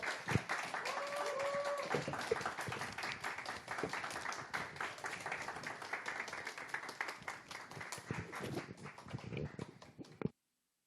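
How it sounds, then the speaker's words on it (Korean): An audience at a Korean church summer retreat lecture applauds to welcome a speaker: steady, dense clapping from a crowd, fairly distant, sustained for about ten seconds and then cutting off abruptly, with a few faint voices over it. "큰 박수 보내주세요"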